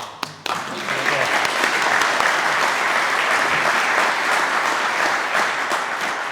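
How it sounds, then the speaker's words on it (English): Crowd applause at an outdoor ribbon-cutting ceremony for an armory, starting after a couple of sharp taps and swelling into loud, steady clapping that carries on for several seconds. "Clap for you."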